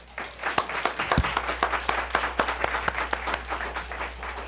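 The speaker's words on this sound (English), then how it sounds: "We're going to ask our audience, our studio audience, to please give them a round of applause" A studio audience at a county commission candidates' forum gives a round of applause, many hands clapping in a lively, fairly close patter with a few sharper claps standing out over a low hum.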